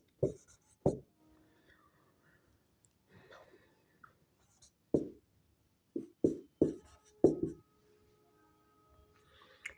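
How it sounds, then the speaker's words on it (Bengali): Chalk or pen writing out a quadratic equation by hand during a maths lesson: a series of short, scratchy strokes in uneven bursts, close by and fairly quiet, with pauses between them. "আমি যদি এরকম লিখি"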